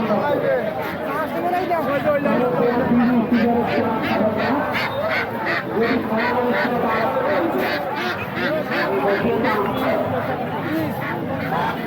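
Ducks quack repeatedly in quick, overlapping bursts at a busy rural livestock market, amid steady crowd chatter and nearby bargaining voices.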